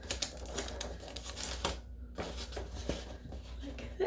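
Adhesive tape being pulled from a roll and pressed across a paper cover at the bottom of a craft, giving short ripping and rubbing sounds close by with brief quiet gaps.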